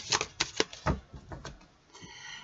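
Tarot-style cards are drawn and laid down one after another, giving a quiet, uneven series of soft flicks and slaps close by.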